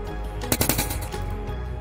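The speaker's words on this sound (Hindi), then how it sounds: "पटाखे जैसा आवाज़ करके बल्ब हमारा फ्यूज हो गया" A DC bulb plugged into AC mains through an extension board fails with a loud, crackling, firecracker-like burst of rapid pops, close and dense throughout.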